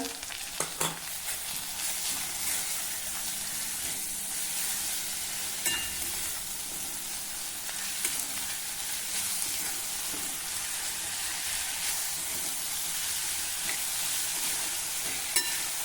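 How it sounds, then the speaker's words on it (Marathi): Chopped Malabar spinach leaves with salt sauté in a pan, a continuous close sizzle with occasional light clicks and taps from stirring. "आता आपण हे छान परतून घेऊ."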